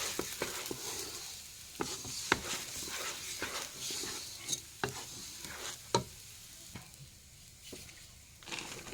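Khichuri ingredients with cumin powder are stirred in a pot, giving soft, irregular scraping and clacking strokes over a faint sizzle, up close and with no talking.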